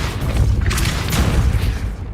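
Depulso, a force-push spell in Hogwarts Legacy, goes off as a loud, booming whoosh that swells quickly and holds a dense rumble for about two seconds before fading.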